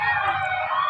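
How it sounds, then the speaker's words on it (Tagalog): A fire truck siren wails steadily through a fire scene in Payatas, Quezon City, a sustained high-pitched tone that stays constant and moderately loud over low background rumble. "May parating na po na fire truck. Hindi lang natin ito nakita tanaw. Pero narinig natin yung sirena nila."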